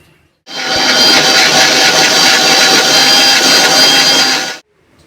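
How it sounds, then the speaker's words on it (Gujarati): A kitchen mixer grinder churns khaman batter mixed with curd, a loud steady motor whir starting abruptly, running evenly for about four seconds, then cutting off cleanly. "હવે આપણે બીજી વાર બનાવીએ એમાં પણ આપણે દહીં નાખી દીધું છે હવે આપણે એને ગ્રાઇન્ડ કરીશું"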